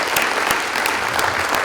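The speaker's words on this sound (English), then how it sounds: "could everyone else raise both hands and give those folks a round of" An audience at a chamber of commerce breakfast gives a steady round of applause, many hands clapping densely and loudly throughout, without any talking over it.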